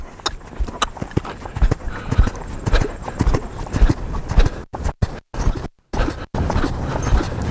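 Horse hooves clip-clopping on the ground in a training pen while the horse is worked through its gaits and stopped, a steady beat of close, fairly loud steps with a few brief gaps.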